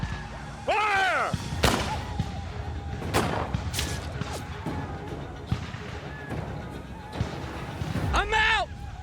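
Gunfire from trappers' guns during a frontier battle reenactment, several sharp loud shots spread irregularly through the scene, mixed with shouting voices and commotion.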